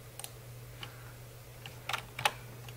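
A few scattered, faint clicks of keys on a computer keyboard, ending in a couple of firmer key presses like hitting enter, close up over a low steady hum with no voices.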